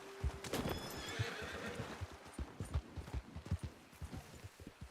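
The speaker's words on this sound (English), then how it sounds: "I'm just riding my horse" A horse in the video game Red Dead Redemption 2 lets out a shrill neigh, then its hooves beat a quick, rhythmic clip-clop of galloping, close and clear.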